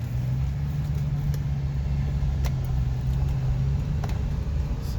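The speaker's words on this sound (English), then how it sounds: "Oh yeah, the four-wheel drive's engaged. Climbing up the hills." A Chevrolet Avalanche truck climbs hills in four-wheel drive, its engine a steady low rumble heard from inside the cab, continuous and fairly loud with faint clicks and no talking.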